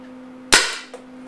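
A single sharp shot from an upgraded Honorcore Scarab Arms TGR2 blaster gun, a loud crack that decays over about half a second, followed by a fainter secondary click, with a steady electronic hum underneath throughout.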